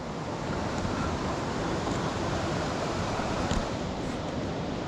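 Whitfield Force waterfall near Askrigg pours in a continuous, dense roar of rushing water, a steady broadband wash that holds at one level from start to finish with no voices.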